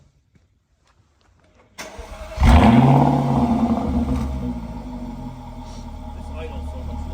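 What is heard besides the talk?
old Jaguar GT engine starting and idling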